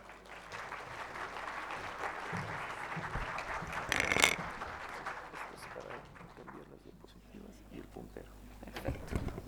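At a Bolivian law conference in La Paz, the audience applauds a speaker, Mónica Cordero Escalier, with sustained clapping that swells briefly midway and tapers off, and some voices can be heard underneath.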